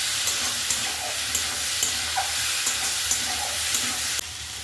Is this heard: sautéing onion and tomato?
yes